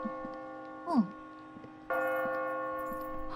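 A bell strikes with a bright, clear onset and rings on in a steady, sustained tone, preceded by a brief swooping sound and a quiet, tonal background.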